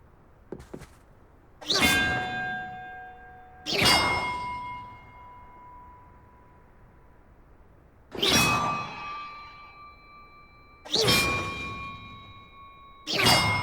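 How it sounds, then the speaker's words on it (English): Bells rung one at a time in a puzzle in the Hogwarts Legacy video game, five or six clear metallic clangs with long ringing tones that fade between strikes, loud and close, with no talking. "Perhaps the map contains clues about the order I'm supposed to ring the bells in."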